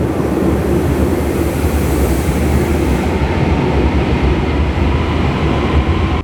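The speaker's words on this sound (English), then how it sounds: "taking the metro right now, and I got my ticket, and now I'm just waiting for the train." A Naples metro train rumbles loudly and close by, a continuous heavy roar of wheels and carriages with a hissing high band that eases off partway through, no voices.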